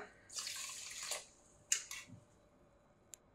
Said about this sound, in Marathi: त्याच कपाने आपण 3 कप साखर आहे तर 4 कप आपल्याला पाणी घालायचं आहे